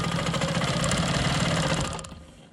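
A Quilt Maker Pro 20 quilting machine stitches at a steady rapid rhythm, loud and close with a dense buzzing drone, then winds down and fades out near the end.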